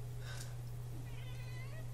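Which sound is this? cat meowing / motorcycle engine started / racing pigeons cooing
cat meowing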